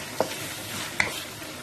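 Cream is stirred into carbonara in a pan, with two brief spoon scrapes over a soft constant sizzle, close and quiet, without speech.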